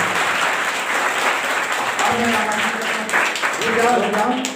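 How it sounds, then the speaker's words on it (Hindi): Loud, sustained applause from a crowd at a government high school transfer farewell ceremony, dense clapping continuing throughout while voices rise over it in the second half. "बाकी सभी जोरदार तालियों से अभिनंदन करें।"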